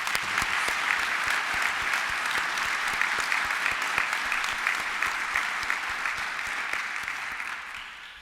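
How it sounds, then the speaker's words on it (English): A large audience at a university opening ceremony claps steadily for about eight seconds, a dense sustained patter that tapers slightly at the end. "would you also give a round of applause to those?"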